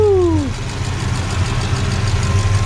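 A Ford Falcon engine just fitted with new ignition parts settles into a steady, close idle with a low throbbing rumble after a short falling whine from the starter at the start.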